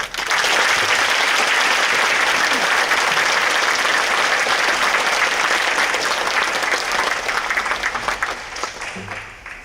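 Applause at the Yongin mayor's inauguration ceremony welcomes invited guests, as a large indoor crowd claps loudly and steadily for several seconds before it tapers off.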